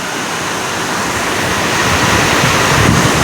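Steady, loud hiss and roar of heavy monsoon rain pouring down over waist-deep floodwater in Vasai, close by and unbroken, slowly growing stronger.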